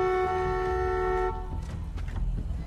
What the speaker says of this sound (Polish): w samochodach są klaksony